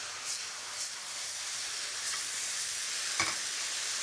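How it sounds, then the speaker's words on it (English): Mushrooms, black beans and cooked noodles are stir-fried in black bean sauce, a steady hissing sizzle with soft tossing scrapes and a small clatter near the end. "We just need to coat them in the black bean sauce."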